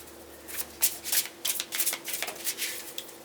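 Tarot cards are shuffled by hand in a string of soft, papery riffling bursts, fairly close and quiet, with no voice over them.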